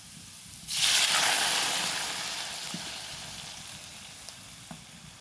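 Lentils hit hot oil with fried onion and garlic, and a loud hissing sizzle bursts in suddenly, then slowly fades over several seconds, with a few faint clicks near the end.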